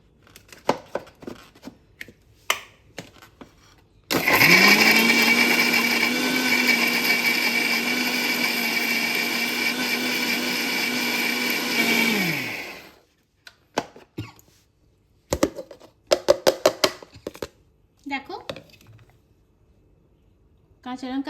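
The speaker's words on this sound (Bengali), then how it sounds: "প্রথমে এটাকে আমি আদা আর ধনে পাতাটা পেস্ট করে নেবো" An electric blender grinds ginger and coriander leaves into a paste, a loud steady whir running about eight seconds and then cutting off, with clattering and handling noises before and after.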